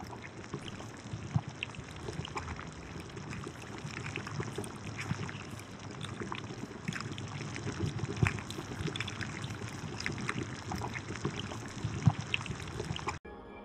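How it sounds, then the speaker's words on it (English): Continuous bubbling and gurgling liquid, steady and close, with irregular pops and glugs throughout and no voices; a swamp effect made from boiling water, a plastic sensory toy and mouth sounds. "Bubbly swamp pit, made from boiling water, a plastic sensory toy, and mouth sounds."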